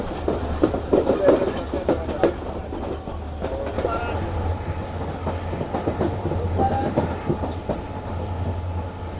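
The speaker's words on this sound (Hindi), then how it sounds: "फाइनली 2:45 बजे हमारी ट्रेन निकल चुकी है लांडी जंक्शन रेलवे स्टेशन से" The Queen of Sindh Sukkur Express, hauled by locomotive SGM 38-203, pulls out of Landi Junction with a continuous low rumble, rhythmic wheel clatter on the rails and a steady engine drone heard from on board.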